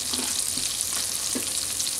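Parsley and melted fat sizzle in a pan for linguini clam sauce, a close, steady hissing crackle with a few soft stirring taps and no talk.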